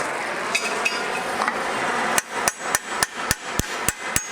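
A blacksmith's hammer strikes the heated end of an iron rivet on an 18th–19th century style toaster to mushroom it. About eight sharp, ringing blows land at an even pace after a stretch of quieter workshop noise.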